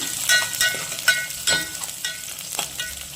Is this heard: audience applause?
no